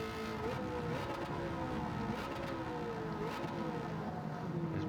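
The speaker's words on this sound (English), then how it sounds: "It is a song of all of its own, this engine note, and it's loud." A Corvette ZR1 C6 race car roars steadily in Gran Turismo 7, driven on the Sardegna Road A circuit, with a loud, continuous engine note that shifts pitch slightly as it revs.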